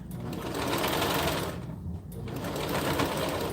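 A sewing machine stitches continuously at close range, a dense steady whir with a brief dip in the middle, working on craft orders with no talking.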